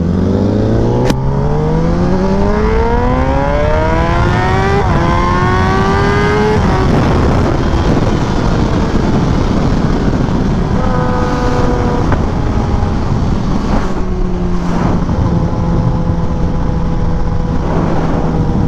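Kawasaki ZX-10R motorcycle with an SC Project exhaust, loud and close, accelerating hard through several gear changes with a rising engine scream that drops at each shift, no voices.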